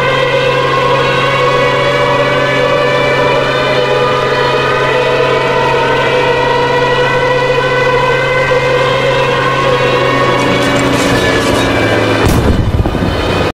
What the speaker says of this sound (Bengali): এদের ডানায় সাইরেন লাগানো থাকত, যা ডাইভ দেওয়ার সময় চালু হতো।